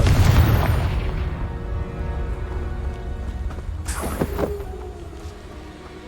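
A Confringo spell explosion in Hogwarts Legacy bursts with a loud, deep boom at the start, then fades into a rumbling, crackling tail under steady game ambience.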